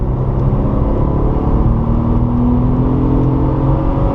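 A Porsche 997 Targa 4S pulls hard around a race circuit, its engine droning loud and steady from inside the cabin as the pitch climbs slowly under throttle.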